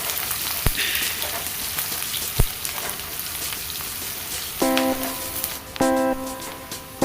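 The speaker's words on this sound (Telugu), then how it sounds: "2 పెద్ద సైజు ఉల్లిపాయలు తీసుకొని ఇలా సన్నగా కట్ చేసి వేసి గోల్డెన్ కలర్ వచ్చేంత వరకు ఫ్రై చేసుకోండి" Thinly sliced onions fry until golden for a red cabbage egg curry, a steady close sizzle with a few sharp clicks and brief tonal beeps layered over it.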